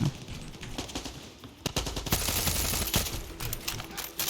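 Rapid bursts of automatic gunfire with noticeable recoil in Far Cry 6, loud and continuous with brief pauses, sharp cracks layered over a busy background.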